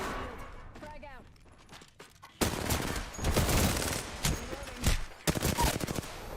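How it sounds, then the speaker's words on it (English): Gunfire in the video game Apex Legends: after a quieter stretch with game sounds, loud bursts of rapid shots and fusillade erupt and continue in clustered volleys, with a voice speaking over the action. "Getting shot at."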